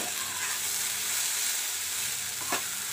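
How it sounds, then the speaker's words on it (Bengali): Steady, soft sizzling of potatoes frying in a pan, with a brief scrape of stirring near the end. "আলু ভাজাটা করে নিই"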